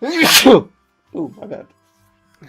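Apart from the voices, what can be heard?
sneeze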